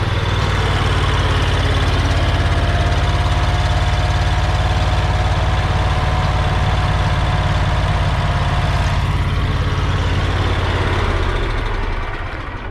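An electric-start generator engine runs loud and close, a dense steady low rumble with a faint whine, holding constant before easing slightly at the very end, with no talk.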